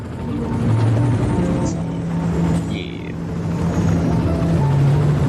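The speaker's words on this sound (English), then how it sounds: "So, helicopter, where are you going?" Helicopter in the Cities Skylines city-building game, a steady whirring engine drone with faint tonal hum running throughout and a brief spoken word over it.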